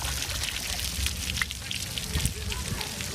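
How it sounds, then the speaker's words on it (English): Water pours into bicycle water bottles outdoors near Kingsley during a RAGBRAI ride, a steady splashing trickle amid outdoor noise while people talk nearby. "Water bottles refilled just outside of Kingsley."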